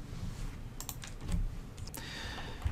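Someone types a comment on a computer keyboard, making quick, quiet clusters of key clicks with short pauses between bursts.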